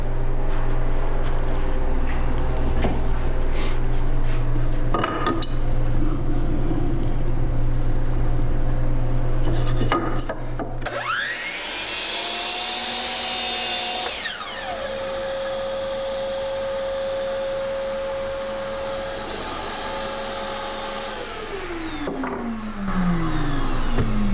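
A Metabo saw cuts through wood with a dust collection vacuum attached, giving a loud, steady motor whine and rush of suction that spins up, holds, then winds down, with no talking.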